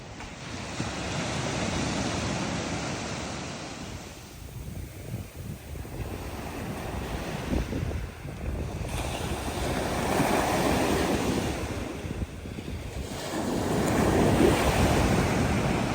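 Ocean waves roll and break at Hyams Beach, a white-sand beach, at sunrise, with strong wind buffeting the microphone. The surf swells and recedes in broad surges, close and full, with no voices.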